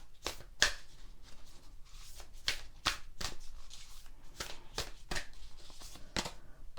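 Tarot cards are shuffled close up in a series of quick, crisp riffling bursts at an irregular rhythm, each one a short papery flutter, with soft handling sounds between them.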